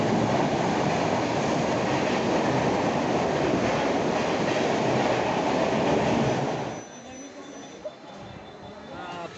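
A steady, loud rumble of an electric commuter train riding along the rails, with clattering wheels, then the noise drops suddenly as the train slows and quiets.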